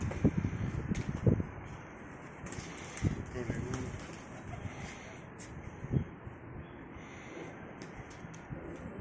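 Breeding pairs of racing pigeons coo softly in a loft, with low repeated coos and occasional flutters under someone speaking and a steady background hum.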